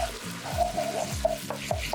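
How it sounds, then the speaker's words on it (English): Dzenkple, a Ghanaian dish, frying in a pot while being stirred, with a steady low sizzle and a few repeated scraping strokes of the spoon, close and without talk. "Stir it. Let it fry for a while."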